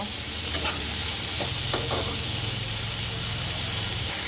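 Spices sizzle and fry in hot oil for a tengra fish curry, a steady close hiss with a few soft stirring clicks, no voices.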